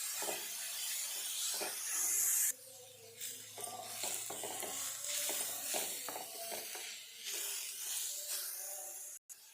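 Raw papaya chutney ingredients sautéing over a low flame, a steady soft sizzle with intermittent scraping stir strokes throughout, close and alone with no talk.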